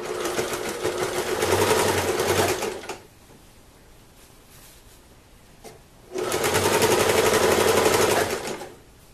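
Sewing machine stitching along a quilt edge runs in two steady bursts of about three seconds each, loud and close, with a quiet pause between them and no talking.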